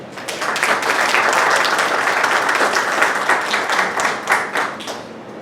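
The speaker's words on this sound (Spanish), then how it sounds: "para quien pido nuevamente un fuerte aplauso" Conference audience applauding a speaker, dense sustained clapping at a steady loud level for several seconds, with a few sharper claps standing out near the end.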